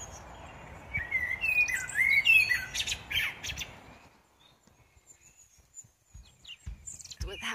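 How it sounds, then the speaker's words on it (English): A bird sings at Blarney Castle in Ireland, with bright repeated chirps and whistled phrases over outdoor ambience, moderately near, fading into quieter surroundings with occasional faint sounds. "Not sure where the bird is, but I'm loving the sound it's making."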